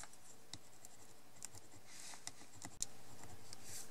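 A bone folder pressed and rubbed along a ribbon on a handmade birthday card, giving steady soft scraping with scattered light taps and one sharper click near the end, close up with no talking.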